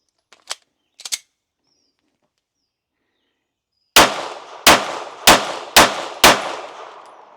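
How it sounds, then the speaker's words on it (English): Five sharp, loud gunshots from a compensated pistol firing 147 grain bullets ring out at a steady pace with echoing tails, preceded by a few faint metallic clicks and a long stretch of quiet. "Let's take a few shots again with the same ammo with a couple of 147 grain bullets."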